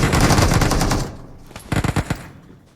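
Bursts of automatic gunfire in a battle royale game, a rapid, loud volley first, then after a brief lull a second quick string of sharp shots trailing off, with no voices.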